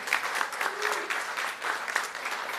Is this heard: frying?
no